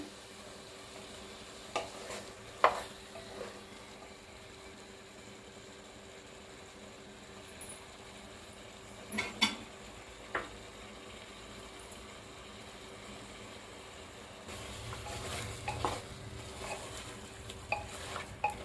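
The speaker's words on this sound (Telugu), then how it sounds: "ఇంకా కలుపుకుంటున్నాను." Masala paste for mutton curry being stirred as it fries in a pan, a quiet background sizzle punctuated by occasional spoon clicks and scrapes, growing slightly louder and denser near the end, with no talking.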